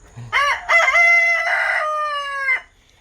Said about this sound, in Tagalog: Maaga kasi kaya tilaok ng tilaok.